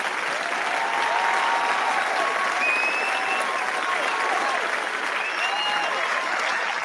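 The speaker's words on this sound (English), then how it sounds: "Hit the F key for me to give a round of applause." Sustained applause sound effect set off by pressing the F key during a live online indie game pitch competition, a steady wash of many hands clapping from start to finish with no pauses.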